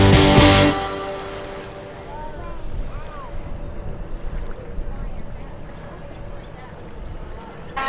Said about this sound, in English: So we're headed out on the boat.